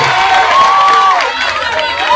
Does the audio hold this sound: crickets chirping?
no